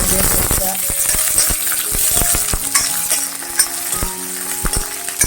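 Garlic, green chillies and ginger frying over a low flame for a green mango thecha, with a continuous bright sizzle and frequent crisp spatula taps and scrapes against the pan, heard up close.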